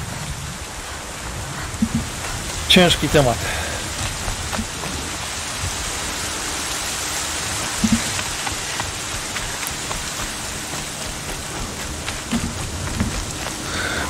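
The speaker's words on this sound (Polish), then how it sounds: "O, znowuż deszcz." Rain falling in the video game Horizon Zero Dawn, a steady hiss of heavy rainfall with faint rumbles and occasional sharper game sounds, and someone speaking briefly over it.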